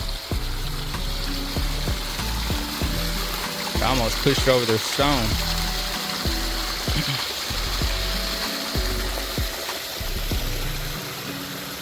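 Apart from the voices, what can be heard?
water flowing through a dam drainage pipe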